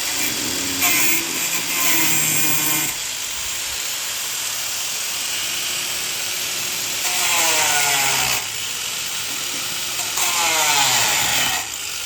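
A power tool cuts and trims a Toyota JZX100 Chaser's manual transmission case in a garage, running in steady loud bursts with short pauses between passes, with no talk over it.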